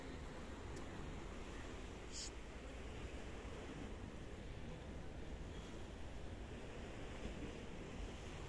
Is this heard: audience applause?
no